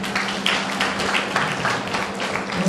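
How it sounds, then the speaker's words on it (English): Audience clapping at a medical college event: a steady patter of many hands, moderately loud and even throughout, with no clear peak or fade. "Please give a round of applause."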